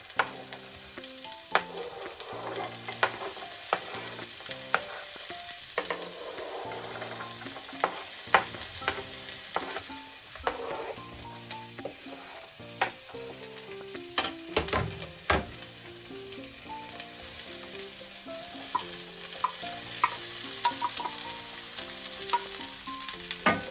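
Cut vegetables stir-fry in hot oil for yaki soba, a steady close sizzle broken by frequent sharp spatula scrapes and knocks against the pan over about twenty seconds, with no voices.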